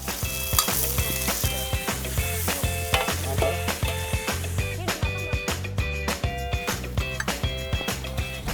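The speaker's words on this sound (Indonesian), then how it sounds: "Ini dia tumis teripang ala kampung Samate Raja Ampat" Sea cucumber stir-fried with onion, chili and chopped vegetables in a village kitchen in Raja Ampat, loud close sizzling with rhythmic scraping and stirring strokes against the pan, repeated steadily throughout.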